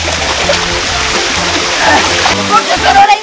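Water splashing and streaming from a water tunnel inside an escape room, a constant rushing spray heard up close while excited voices talk and call out over it throughout.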